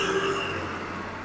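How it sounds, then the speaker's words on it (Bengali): A bus goes by on a busy, high-traffic road, a steady broadband roar of engine and tyres with a faint tonal whine, continuous and fairly close, with no talk over it. "এই যে আমরা এখন দেখছি একটি বাস যাচ্ছে"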